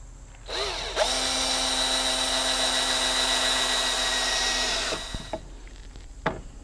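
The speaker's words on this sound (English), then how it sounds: "Now I'm just going to drill some holes" A power drill bores holes in wood, spinning up with a rising whine and then holding a loud, steady high-pitched drone for about four seconds before winding down, followed by a couple of short clicks.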